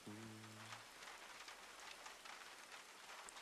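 Steady rain pours throughout in the Far Cry 6 game world, a dense, even hiss of drops on surfaces, with a brief low tonal hum at the very start and no talk.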